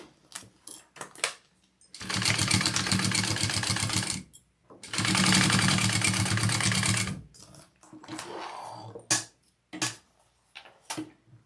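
A sewing machine basting fabric for a Jasper Sling bag, running in two loud, fast-stitching bursts of about two seconds each, surrounded by quieter clicks and handling taps.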